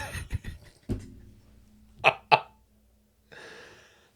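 Two sharp, harsh coughs close together, preceded by a few short throaty bursts, then a soft breathy exhale; nearby and fairly loud.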